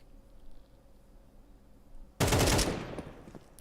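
A burst of gunfire cracks out in an esports tactical shooter match. After a quiet stretch it arrives as a sudden loud, sharp rapid volley that tails off over about a second, heard alone without talk.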